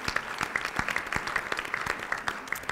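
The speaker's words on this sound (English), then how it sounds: "I'd like to give a hand of applause to Alison King" Audience applauding the moderator at a panel on women mayors in Massachusetts, steady clapping from a modest crowd with individual hand claps audible, evenly sustained and moderately loud throughout.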